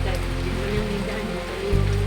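Heavy rain pours steadily onto a surface indoors, a dense even hiss of drops with some low hum and brief voices mixed in.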